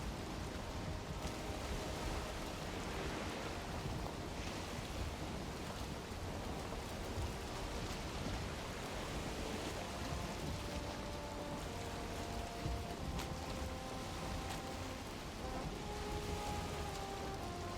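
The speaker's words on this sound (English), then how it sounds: "Oh, it's starting to rain as well." Steady rain pattering in the Valheim video game, a dense even hiss with distant thunder rumbling faintly beneath, no talking.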